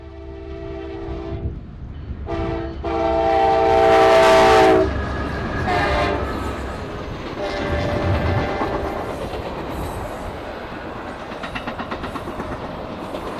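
A CSX office car special passenger train, running as P001 near the south end of Deshler siding in Ohio, sounds a loud sustained horn chord that cuts off, then rumbles and clatters past steadily with wheel noise.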